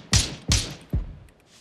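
Mortar rounds slam down in a video game firefight, landing as three heavy booming thuds spaced about half a second apart, each with a sharp crack that fades into a short rumble.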